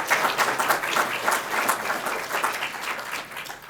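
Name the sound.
audience applause at a conference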